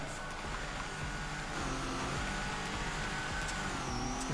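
A drift car's engine in the Torque Drift racing game holds a steady, droning rev that swells slightly partway through, with harmonic engine tones under the din and no talk.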